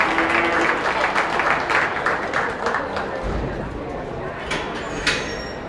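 Audience applause for exhibitors at a county beef show, moderate clapping with some crowd noise that thins out toward the end, and a voice speaking over it.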